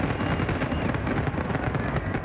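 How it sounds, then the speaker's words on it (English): Dense, continuous crackling and booming from fireworks at a baseball game night, loud and unbroken, with rapid bursts layered into a wall of noise. "Fireworks are the grand slam to cap off baseball nights."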